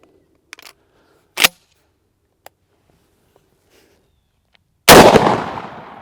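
A shotgun fires 00 buckshot loaded with Federal Flitecontrol wads, one loud sharp blast with a decaying tail near the end, preceded by a few faint clicks and handling taps.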